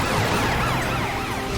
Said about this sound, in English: Your sirens are back to work.